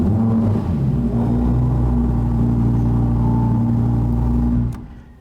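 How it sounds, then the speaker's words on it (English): An Audi R8 V10 Performance facelift starts with a quick crank and settles into a loud, deep, steady idle rumble close by, cutting off abruptly near the end. "when you turn on the car, you know what, let's just go ahead and do that so you can hear the symphony that comes out."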